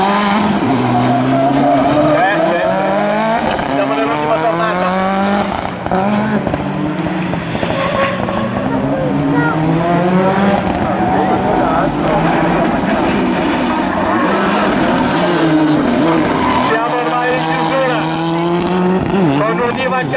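Supercar rallycross race cars at a round of the Italian rallycross championship on the final lap, engines screaming loud and continuous with shifting revs and tire squeal, under an excited commentator's voice throughout.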